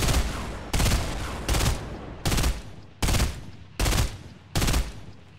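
Gunfire in Fortnite sounds as six loud, sharp bursts spaced at steady intervals of under a second, each cracking hard and then fading.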